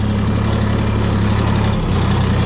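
A DTZ tractor engine idles close by with a steady, loud low rumble and a slight dip in tone near the end, no talk over it.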